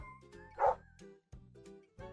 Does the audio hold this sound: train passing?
no